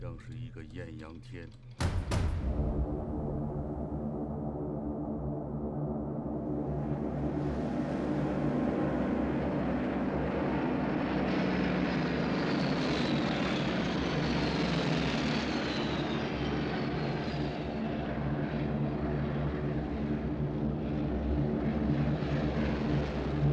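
Attack aircraft passing overhead at about 5,000 metres in a war film scene, a steady broad engine roar that builds and holds for over twenty seconds after a brief sharp sound at the start, with faint voices beneath.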